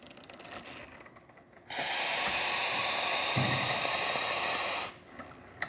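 A La Pavoni espresso machine runs a pressure test without its portafilter, giving a loud, steady hiss and pump roar for about three seconds before cutting off, with quieter machine noise before and after.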